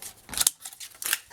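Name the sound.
scissors cutting a strip of paper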